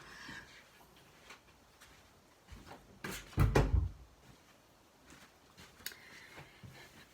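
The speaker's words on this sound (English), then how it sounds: "hold on, I will close the door" A door being shut indoors, heard as a short cluster of close knocks and a solid thud midway, with quiet room noise before and after.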